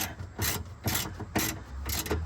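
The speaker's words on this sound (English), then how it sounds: "Find the bolt. Put the bolt back in. Okay. Tighten that up." Ratchet wrench with a 14 mm socket tightening a bolt on the rear shock of a 2001–2002 Toyota RAV4, four short rasping clicking bursts in a steady rhythm, close and alone.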